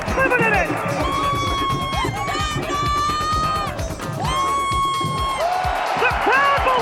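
A stadium crowd roars and cheers after a Charlotte FC goal against D.C. United in an MLS home match, with sustained whoops and shrill horn-like tones riding over the dense, loud roar throughout.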